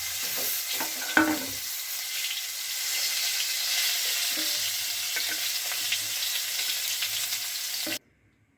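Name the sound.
eggplant frying in a wok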